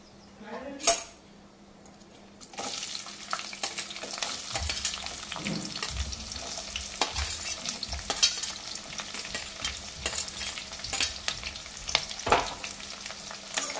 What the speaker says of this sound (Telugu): నేను ఇందులో ఆనియన్స్, పచ్చిమిర్చి అయితే వేసుకుంటాను